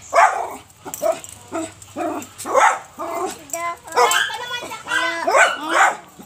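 A dog barks repeatedly in a backyard in the province, sharp yips and bow-wows in irregular bursts close by, with a person talking in between the barks.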